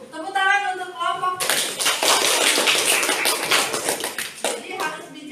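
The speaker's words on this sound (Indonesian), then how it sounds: "Tepuk tangan untuk kelompok." A group of people clapping together for a few seconds, brisk and fairly loud, with voices speaking briefly before and after.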